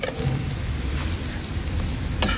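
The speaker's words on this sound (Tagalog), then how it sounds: "halo ulit para makita natin na luto na ang itlog" Egg being stirred in a frying pan for ginisang ampalaya, sautéed bitter melon: a steady, close oil sizzle with soft scraping stirs running throughout, with one brighter scrape near the end.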